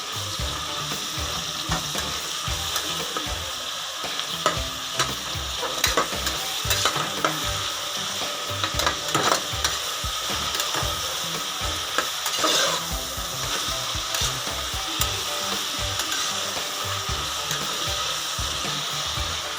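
Tomatoes frying in a pan of vegetable pulao with avarekalu beans, a steady loud sizzle broken by busy scraping and stirring strokes of a spatula, close and continuous with no talk.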